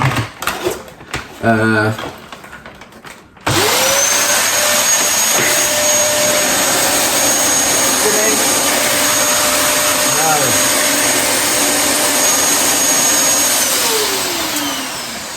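A Dyson DC33 multi floor upright vacuum cleaner under repair starts up after a few seconds of handling noise and runs loud and steady close by, with a rising whine and a slight drop in pitch near the end.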